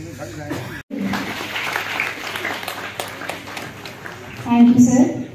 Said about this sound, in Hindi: मैंने कहा जोरदार तालियों से।